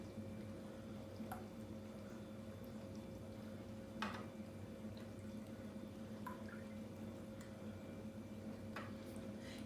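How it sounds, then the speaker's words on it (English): Water is poured back from one small container into another in a kitchen, heard as faint drips and soft trickles over a steady background hum, with no talking. "And then we're going to pour back."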